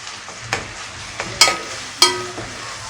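Freshly pounded ginger and garlic frying in a pan for chicken curry, a soft steady sizzle broken by several sharp clinks and scrapes of stirring, close and without talk.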